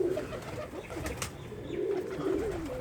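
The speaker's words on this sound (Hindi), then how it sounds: "वो देखे ऊपर एक वो कबूतर" Pigeon cooing nearby, soft repeated low throaty coos in a gentle rolling rhythm, faint over quiet background rustle with no talking.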